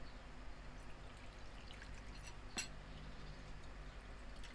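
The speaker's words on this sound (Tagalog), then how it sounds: "Lagay ng tubig." Water poured from a container into a bowl while making a no-bake Milo cake in a home kitchen, a faint steady trickle with one brief clink of a spoon or glass midway, no talk.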